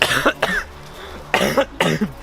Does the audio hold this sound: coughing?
yes